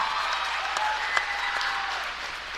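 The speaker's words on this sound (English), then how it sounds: "Big round of applause for Noah Bellini." A crowd applauds in a school gym as a senior basketball player is honored, a steady, diffuse roll of clapping that fills the hall at moderate level without a break.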